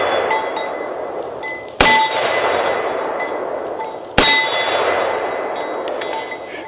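Two sharp, loud metallic clangs about two and a half seconds apart ring out as Desert Eagle pistol rounds, fired from a 6-inch barrel, strike a steel target, each ring decaying against outdoor background noise.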